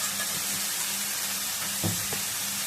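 Green chilies drop into hot oil in a frying pan for an aloo-peas fry, giving a steady broadband sizzle with a brief burst of crackling as they land, close and fairly loud with no talking.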